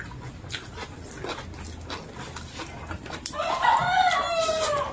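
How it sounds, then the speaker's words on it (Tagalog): Hens cluck faintly in the background, then a rooster crows loudly and drawn-out partway through, over steady outdoor noise. "Dahil tanghalian, maraming manok."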